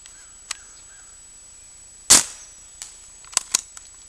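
A steel BB gun powered by an air compressor fires outdoors, one sharp loud crack followed by fainter ticks and a couple of quick snaps, each report short and isolated against quiet background.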